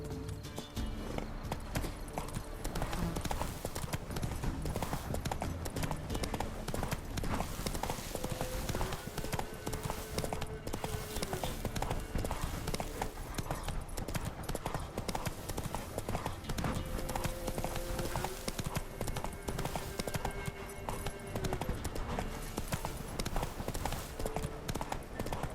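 Horse hooves clip-clop in a fast, steady gallop throughout a long stretch in The Witcher 3, loud and continuous with faint background game sounds.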